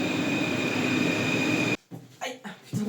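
Paris metro train rumbling loudly with a steady whine, then cutting off abruptly to quieter station ambience where people talk.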